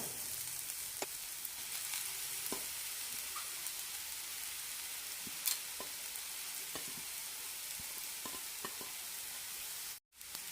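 Grated radish frying in roasted masala with chilli powder gives a steady, close sizzle with occasional stirring clicks, cutting out briefly near the end.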